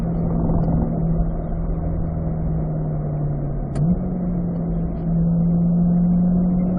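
A vehicle on a race track climbs through the gears with a steady, loud engine drone that dips briefly at a gear change and then picks up again, with no talking.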